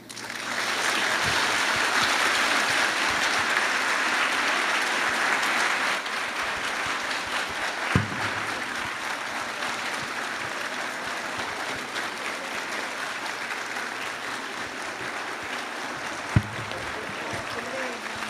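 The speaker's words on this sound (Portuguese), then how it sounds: "O pessoal aplaudiu de pé porque gostou" A hall audience gives a standing ovation, dense steady clapping holding loud for several seconds before easing to a lighter, sustained patter, with a couple of sharp knocks along the way.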